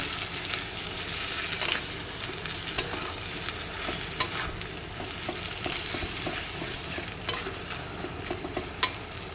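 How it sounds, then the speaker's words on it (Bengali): Spice mixture with chili fried and stirred in a pan for a crab dish, a steady loud sizzle with intermittent scraping stirs and clinks throughout, no voices. "এবার এটাকে একটু ভেজে নেব।"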